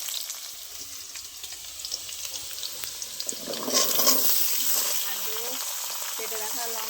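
Ridge gourd and red-fried potato pieces sizzle steadily in a pan, a continuous frying hiss with occasional stirring scrapes that swells louder midway through.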